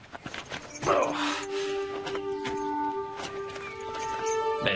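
A horse's hooves clop at close range with what may be a short whinny, in a French period countryside setting; people talk over the animal sounds throughout.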